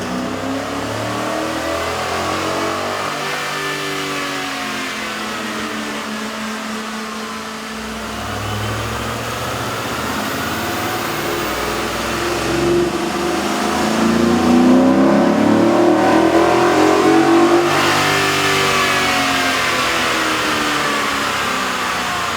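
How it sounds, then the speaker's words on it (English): A Ford F150 pickup with a 3.5L V6 and a K&N cold air intake runs on a dyno, its engine note sweeping up and down through repeated revs and building to a louder, sustained pull near the end. "we ran the pickup truck on the dyno to test the sound comparison versus the stock intake"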